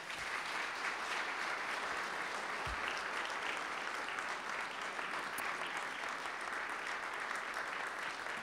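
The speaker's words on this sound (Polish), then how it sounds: "Poproszę o piękne brawa" An audience at a gala honouring engineers, held in the Presidential Palace, applauds steadily and evenly throughout, the clapping heard from a modest distance.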